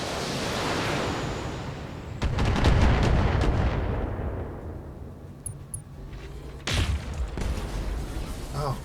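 Heavy mech weapons in the BattleTech Heavy Metal campaign, long-range missiles and a particle projection cannon, erupt in loud rumbling blasts and barrages that swell, fade out, then crash in again near the end.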